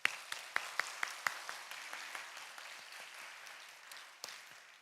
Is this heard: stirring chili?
no